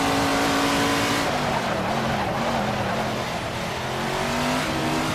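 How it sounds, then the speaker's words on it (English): A car in Assetto Corsa brakes hard and downshifts to first gear; the loud engine tone drops and steps through lower gears, with a continuous roar and faint tire noise. "Hard brake down to first gear."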